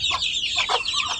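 A few brief, nearby clucks and throaty chatter come from desi chickens kept in a rooftop garden, clear and fairly loud over a faint background.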